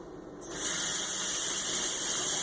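Kefir grains are rinsed under running water: after a brief quiet moment the water switches on and a loud, steady spraying hiss continues to the end, with no speech.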